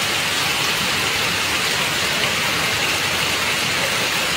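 Steady rain falls outdoors as a dense, even hiss with no break across the whole stretch, loud and close, with no voices over it.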